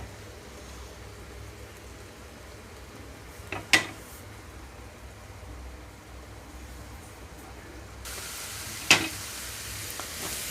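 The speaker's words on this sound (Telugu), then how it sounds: "మూత లేకుండానే 5 నిమిషాల పాటు మీడియం ఫ్లేమ్లోకి అడ్జస్ట్ చేసి వేయించుకుంటున్నాను" Salted ridge gourd pieces fry uncovered in a pan over a medium flame, giving a steady soft sizzle with a couple of sharp utensil clinks, and the sizzle grows brighter toward the end.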